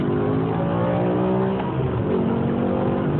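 Upgraded 600-horsepower BMW M6 convertible accelerating hard in M mode, its loud engine roar building and revving continuously as the car pulls, with no talking.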